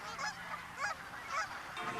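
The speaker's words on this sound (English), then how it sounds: "Canada geese in for a perfect two-webbed landing." Several Canada geese honk in overlapping bursts as they land at Westchester Lagoon in Anchorage, Alaska, a few loud calls rising and falling close by against a steady outdoor background.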